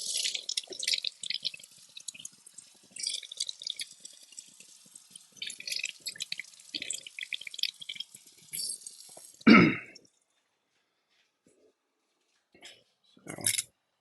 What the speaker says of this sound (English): trick my stepmom always taught me was rinse your onion